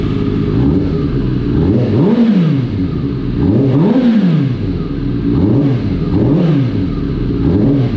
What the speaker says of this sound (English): Let's see if we can get this revved up.